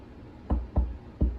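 Three sharp knocks rapped on a hard surface to mimic someone knocking at a door, close and fairly loud, the first two quick together and the third after a short pause, with no talking.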